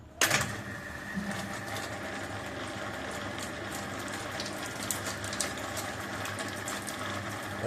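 A 1 HP single-phase water pump motor switches on with a brief jolt, then hums and whirs steadily with a faint rattle at close range.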